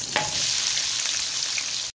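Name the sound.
onions frying in oil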